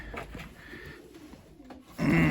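A young pigeon, a plump well-fed squab, gives soft low cooing, heard faintly at first and then a louder, closer burst of coos at the end.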